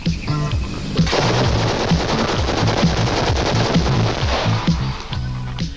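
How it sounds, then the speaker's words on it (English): A new light machine gun from Singapore's state-owned arms factory Chartered Industries fires long, rapid bursts of closely spaced shots, loud and sustained, with brief pauses at the start and end. "touting a new light machine gun"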